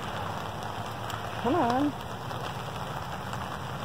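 Steady summer rain falls outdoors, a dense even patter that fills the whole stretch, with a person briefly singing or humming over it and a short spoken remark.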